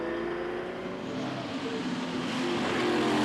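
Historic race cars, including a Ligier GS3, a Ferrari P3, a Porsche and a Lola T70, rush past on the circuit at the Le Mans Classic. The steady engine roar builds slightly in loudness, with no talk over it.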